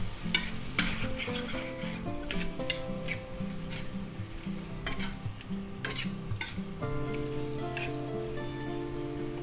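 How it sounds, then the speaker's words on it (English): About a pound of ground beef sizzling in a pan for a stir fry, a continuous crackling sizzle with repeated sharp scrapes and clatters of a utensil breaking it up, close by and without speech. "add our ground meat. Now that's about a pound right there. Okay, now let's stir that around a little."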